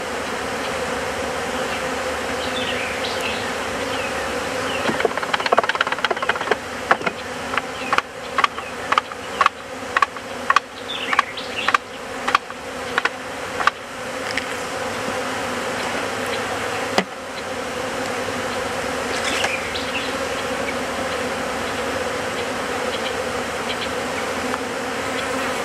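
A massive honey bee swarm drones steadily as hive frames are shifted, with a run of sharp wooden knocks and clicks from the frames partway through and the dense buzzing continuing alone afterward.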